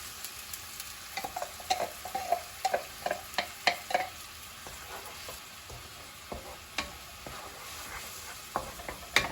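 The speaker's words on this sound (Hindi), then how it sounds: "ये अदरक लहसुन की मैंने जो पेस्ट बनाई है इसको थोड़ा भूनने के लिए" Ginger-garlic paste fries and sizzles in hot oil while being stirred, a steady crackling hiss with irregular spatters and scraping stirs throughout, fairly close and with no talking.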